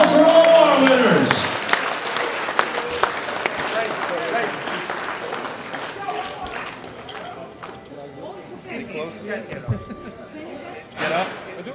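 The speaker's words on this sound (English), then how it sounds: "Big round of applause for all our winners." An audience at a World Open Powerlifting Championships men's 120+ kg awards claps for the winners, loud at first and then thinning into scattered claps as voices talk and chatter over it.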